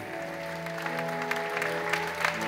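Congregation at a church elder installation service applauding as gifts are presented, a steady wash of clapping over a sustained low organ-like tone, moderately loud throughout.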